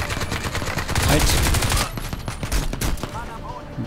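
Rapid bursts of gunfire rattle continuously in the video game Crysis 2, dense and loud, with sharp cracks layered over a constant roar.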